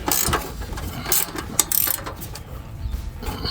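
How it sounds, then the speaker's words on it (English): A 13mm speed wrench tightens the running board bolts underneath a 2019-2024 Silverado 1500, giving rapid bursts of close ratcheting clicks separated by short pauses. "13mm speed wrench is the easiest way to do these"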